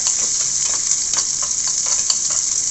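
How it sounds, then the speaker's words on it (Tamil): Dried red chili and onion sauté in hot oil with crackled mustard seeds and urad dal, making a loud, constant close-up sizzle dotted with fine popping crackles. "கடுகு உளுந்து பருப்பு பொரிஞ்ச உடனே ஒரு காஞ்ச மிளகாவும் ஒரு வெங்காயமும் நல்லா அதை வதக்கிடுங்க"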